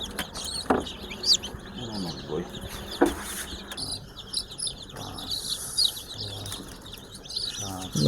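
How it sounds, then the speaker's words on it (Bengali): Newly hatched desi chicken chicks at a hatchery make faint, scattered high chirps and peeps, with occasional rustling and a person talking intermittently nearby. "দেশি মুরগি আমাদের 38টা বাচ্চা ফুটেছে"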